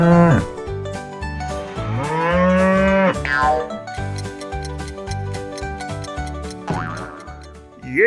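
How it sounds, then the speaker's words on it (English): A cow gives several drawn-out, tonal moos, loud and close, rising and falling in pitch over a steady rhythmic backing, with no voices. "Yes, it's a cow."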